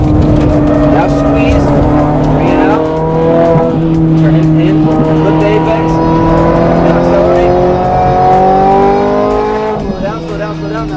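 A Ferrari F430 Scuderia accelerates hard on a race track, its engine loud and close with rising then falling revs and a gear change near the end, while a voice talks over it.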